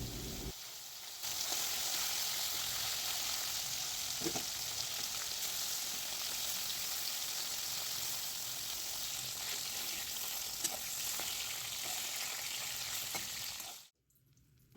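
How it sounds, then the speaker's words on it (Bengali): Koi fish fry in hot oil with a steady, dense sizzle that stays loud and even for the whole stretch, then stops abruptly near the end; no talking. "বাকি মাছগুলো একইভাবে ভেজে নেওয়া হবে।"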